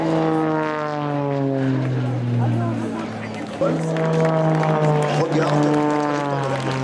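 A propeller-driven aerobatic airplane at an air show in Gimont, Gers, its engine droning loud and near, easing briefly then throttling up again with a strong, steady whine, while a voice talks over it.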